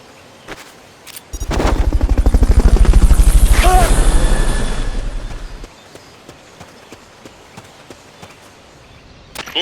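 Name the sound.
Fulton recovery helicopter in video game Metal Gear Solid Peace Walker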